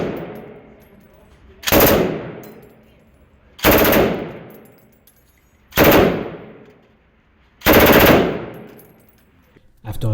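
An MG42 machine gun fires four loud, ripping bursts at a shooting range, each about a second long, spaced roughly two seconds apart with echoing tails between them.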